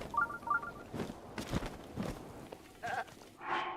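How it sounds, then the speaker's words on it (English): Mountain goat bleats from the Breath of the Wild video game, a few short, wavering calls in quick succession near the start, then brief game sound effects and a chime-like tone toward the end. "That's a mountain goat,"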